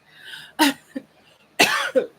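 Two harsh, close coughing bursts, each with a short follow-up, separated by a pause; no talking.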